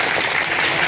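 Applause from a gathered crowd at a Hindu religious ceremony in a village setting, welcoming the host; steady dense clapping fills the whole short stretch at moderate loudness.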